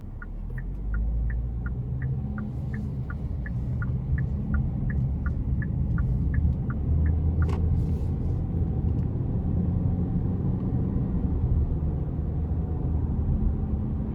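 A 2022 Hyundai Santa Fe SEL with a 2.5L engine cruises in comfort mode, heard from inside the cabin as a steady low rumble and road hum, with a rhythmic ticking chime repeating through the first half.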